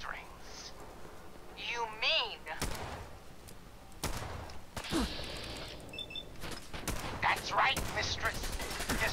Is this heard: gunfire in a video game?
yes